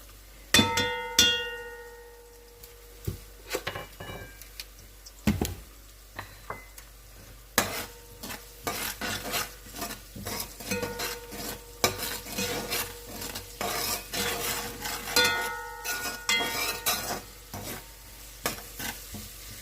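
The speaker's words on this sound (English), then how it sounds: "Let that fry up in there really well" Garlic and onions fry in a pan for garlic onion rice, a steady sizzle close up with frequent sharp clinks and scrapes of a metal utensil against the pan, louder in bursts toward the end.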